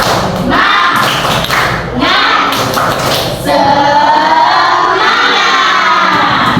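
A classroom of pupils claps out the tepuk semangat spirit chant in loud, rhythmic bursts of thudding claps, with brief shouted voices and a dense crowd wash in the second half.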